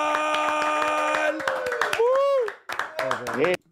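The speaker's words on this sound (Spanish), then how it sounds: "Recibamos con un fuerte aplauso" Studio audience clapping to welcome a guest on a Cuban urban music talk show, a short burst of claps under music and a host's voice before it fades into talking.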